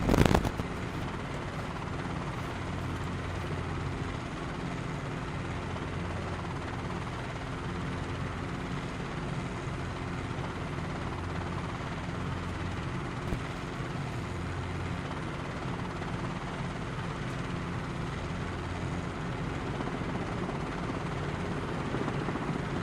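Helicopter in flight in Microsoft Flight Simulator 2020, a steady, loud rotor and turbine drone that holds unbroken and even from start to finish, with no voices.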